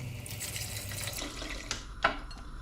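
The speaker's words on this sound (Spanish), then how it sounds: "Le vamos a echar agua al tanteo." Water pours into a soup pot while a broth is being made. A steady rushing stream runs close by and ends with a couple of splashy knocks near the end. No one talks over it.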